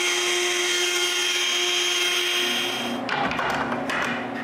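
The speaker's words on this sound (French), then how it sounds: "Je change les ajustements de ma table de toupie, puis je refais d'autres coupes" Router table spinning up and cutting wood during adjustment passes, a steady loud high-pitched motor whine that shifts into a rougher, broadband cutting roar near the end, with no talking.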